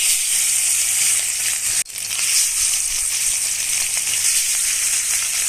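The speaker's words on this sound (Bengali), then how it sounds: "এখন মাছগুলি ভেজে নেব" Katla fish pieces rubbed with turmeric and salt frying in hot oil in a kadai, a steady close, loud sizzle that runs throughout, broken once by a brief dip, with no talking.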